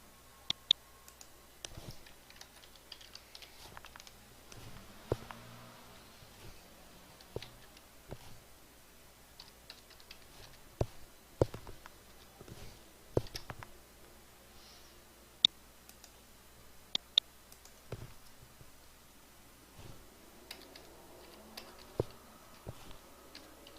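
A computer keyboard and mouse click faintly and sparsely while data is entered into Microsoft Access, with isolated taps scattered over a quiet room background.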